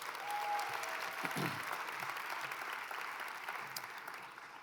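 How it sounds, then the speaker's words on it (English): A round of applause from the audience at an evening swearing-in ceremony and welcome reception, a sustained wash of many hands clapping that stays fairly even, then thins slightly toward the end. "Can we give them all, please, another round of applause?"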